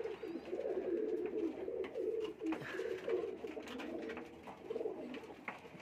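Royal Teddy pigeons coo steadily from breeding cages where they are raising eggs and chicks, a continuous layered murmur of soft, throaty calls from several birds nearby, with no talking over it.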